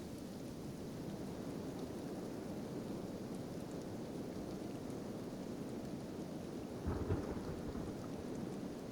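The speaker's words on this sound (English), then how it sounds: "I hate this rain over here, though" Red rain pours steadily in the game Kenshi, a dense, even wash of downpour with a low rumble of thunder swelling briefly near the end.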